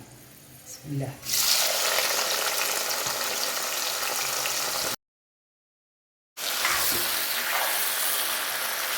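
Drained mango pieces drop into hot oil and set off a loud, steady close-up sizzle that runs on, cut off briefly by a gap of silence before resuming.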